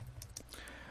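Brief burst of typing on a computer keyboard during a Linux command-line session, a few quick soft key taps, faint and close.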